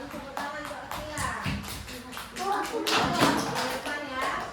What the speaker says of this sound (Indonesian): baru tepuk tangan untuk Akila